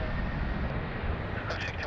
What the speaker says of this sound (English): There's another Melbourne-bound A330 full of Swannies supporters